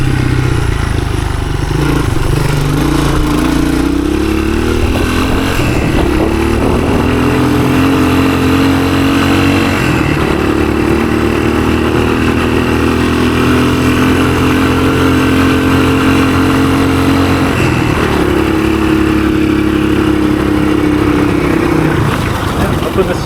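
A 1983 Honda XR200R dirt bike, about 15 hp, is ridden through the woods: its engine drones loud and close and holds high revs for long stretches, with a few brief dips and climbs as it shifts up through the gears.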